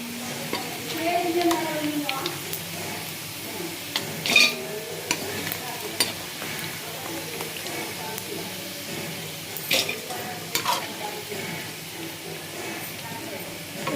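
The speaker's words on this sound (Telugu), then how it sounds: "ఇంకా చికెన్ ఉంది కదా అది కూడా వేయించుకుందాం" Broiler chicken pieces fry in oil for pickle, a steady sizzle with scraping stirs and occasional clatters, while a voice talks over it.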